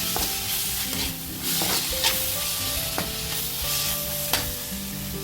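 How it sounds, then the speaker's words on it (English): A spoon stirs tomato ketchup into a pan of chilli mushroom sauce, with sizzling frying and scraping stir strokes, close and steady with no talk. "ఒకసారి మిక్స్ చేసుకోవాలి."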